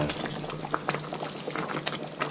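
A Burmese pork curry bubbles and simmers in a pot as its liquid cooks down, with close, irregular pops and gurgles over a soft steady hiss.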